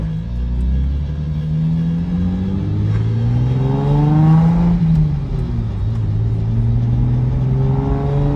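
Nissan 350Z engine with a new clutch and boost controller, heard from inside the car, rumbling loudly and revving up through the gears with rising and falling tones, close and steady.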